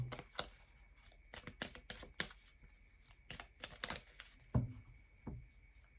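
Oracle cards handled and rearranged by hand: quiet, close shuffling and papery flicks in quick uneven bursts, with a few sharper slaps near the end.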